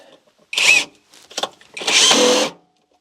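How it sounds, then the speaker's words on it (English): A power drill drives a screw into a wall stud in short bursts: a brief whine, a couple of stuttering pulses, then a longer sustained run that stops abruptly, close and loud. "I'm gonna put one screw up under here into the stud"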